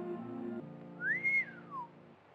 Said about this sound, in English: What'd you whistle for?